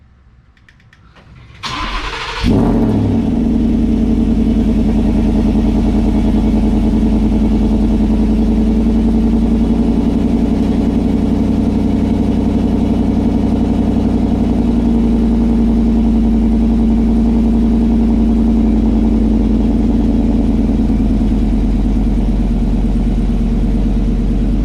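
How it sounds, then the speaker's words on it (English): A 2018 Ford F-150 pickup's supercharged 5.0 V8 cranks briefly on a cold start and fires into a loud, deep rumbling idle that settles and holds steady, close by, with no voices. "let me give it a good cold start real quick and see what it sounds like."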